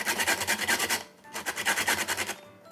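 Lemon peel being grated for zest, a crisp raspy scraping in rapid back-and-forth strokes, close and clear, with one short pause midway and no talking.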